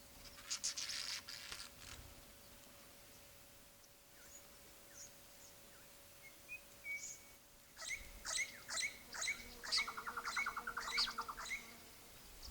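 Critically endangered orange-bellied parrots gather at a seed feeding tray, giving sharp high chirps and tweets, sparse at first then a quick run of repeated calls near the end, fairly close over a quiet background.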